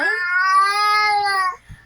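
A baby's single drawn-out, high whimpering cry that sounds much like a cat's meow, close and clear, trailing off at the end.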